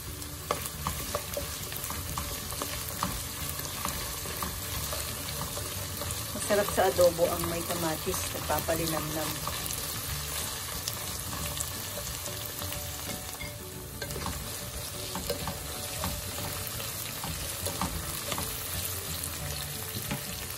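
Chopped tomato sizzles and is stirred in a hot pan with onion for potato adobo, a continuous crackling fry with brief scraping stir sounds midway.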